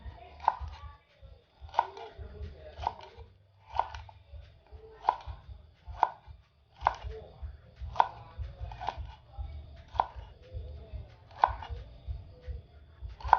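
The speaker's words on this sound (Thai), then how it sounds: "เราก็จะหั่นเป็นแว่นๆอย่างนี้นะคะ" Knife slicing winged beans into rings on a cutting board, a run of about a dozen crisp, evenly spaced chops close up, with a low background hum.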